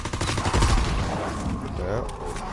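Rapid gunfire from a World War II zombie shooter, an MP40 submachine gun and a big cannon, in quick dense bursts close up, with players talking over the shooting.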